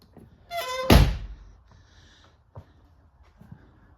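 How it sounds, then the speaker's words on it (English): A truck camper door on a Maverick truck camper swings shut with one solid thunk, preceded by a brief creak and followed by a couple of faint knocks in a quiet interior. "Let's close the door here."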